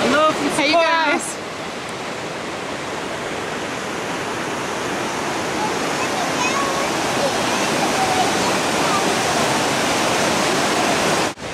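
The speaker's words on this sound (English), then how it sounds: "Beautiful river with the water crashing on the rocks." A river rushing and crashing over rocks fills the scene with steady, loud broadband roar, close by, after a brief voice at the start.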